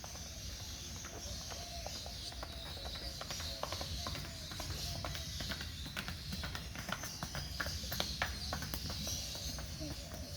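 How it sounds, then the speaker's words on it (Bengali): A horse moves about on open ground where it was grazing, faint scattered clip-clop thuds of hooves over a quiet, steady outdoor hiss, heard from some distance. "আমাদের ঘোড়াটা এখানে ঘাস খাচ্ছিল"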